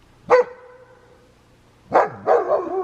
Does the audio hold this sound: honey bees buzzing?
no